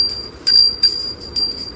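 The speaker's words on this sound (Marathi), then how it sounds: "वाजवते घंटी घंटी पूजन चालू आहे आता" A small brass puja bell rung by hand during a home worship ritual: three or four bright, close metallic chimes in quick succession, each ringing on briefly, with no talk.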